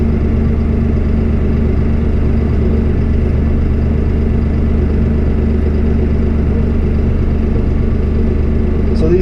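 Farmall 55 tractor engine rumbles steadily at low speed as the tractor creeps forward under power shuttle, a constant near diesel drone with a faint click at the end.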